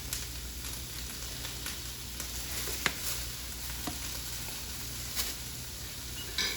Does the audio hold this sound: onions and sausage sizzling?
yes